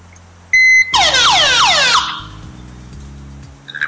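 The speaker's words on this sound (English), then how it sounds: "And I'm waiting for another beep." An aircraft emergency locator transmitter under test gives a short, steady beep, then a loud, rapid siren-like warble of repeated falling sweeps for about a second before it cuts off and leaves a low cockpit hum.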